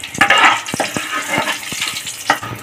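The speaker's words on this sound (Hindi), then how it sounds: "यहाँ पे हींग डालते हैं, डाल के अच्छे से भून लेते हैं।" Cumin, green chilies, whole garam masala spices and asafoetida roast in a hot pan with a busy crackling sizzle, punctuated by sharp pops and spatters throughout.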